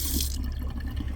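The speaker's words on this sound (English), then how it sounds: "Little hot and cold water here with a sprayer." Hot and cold water runs from a small sink sprayer inside a Sportsmobile 4x4 camper van, a steady close hiss of spray and trickle with no voices.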